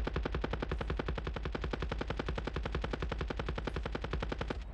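Rapid, sustained machine-gun fire in a video game, a steady stream of evenly spaced shots running continuously at moderate loudness with no pauses.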